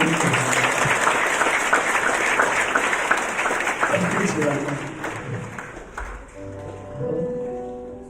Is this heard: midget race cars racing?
no